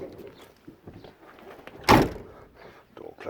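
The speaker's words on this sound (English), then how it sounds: "Door closes nicely." The door of a 1990 Range Rover 2-door shuts once with a heavy, solid thunk midway through, loud and close, against quiet background murmur.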